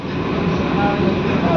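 An Eastern Railway AC passenger train runs along, heard from inside as a continuous loud low rumble with a steady hum and no break.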